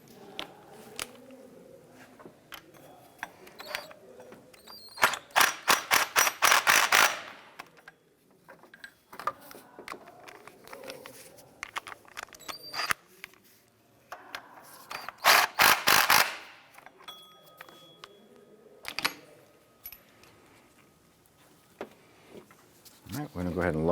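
Ratchet clicking while engine mount bolts are snugged down on a 2004-2008 Acura TL, two dense bursts of rapid close ticks among scattered taps and clunks, with someone talking quietly in between.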